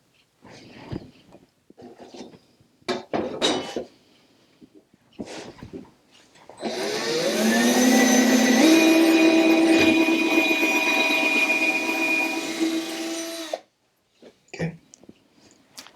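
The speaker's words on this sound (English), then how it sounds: "Now we're drilling those pilot holes so that we can attach it." A power drill whirs steadily for several seconds, drilling pilot holes in wood, its motor pitch shifting as it bites, with brief knocks and clatter before and after.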